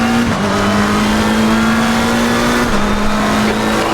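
GT3 race car engines roar at Imola in Assetto Corsa Competizione, a loud sustained drone with a steady pitch that shifts down slightly with a gear change, other cars close around.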